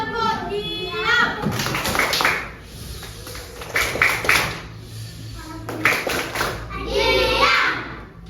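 Young children in a classroom perform the 'tepuk diam' clapping chant, bursts of rhythmic hand claps mixed with chanting children's voices, loud and close, alternating with short quieter gaps.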